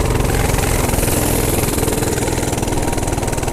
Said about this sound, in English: I'm going to try with one hand to ride this mini bike. So here we go. We're going to race.